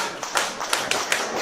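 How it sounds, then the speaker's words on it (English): A wrestling crowd at a live pro event claps in scattered, uneven bursts, a few sharp distinct hand claps over a steady hall murmur, brief and moderately distant. "And the crowd giving Blackwood a deserved reception here."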